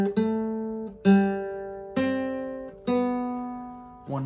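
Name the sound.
guitar playing first phrase of Happy Birthday melody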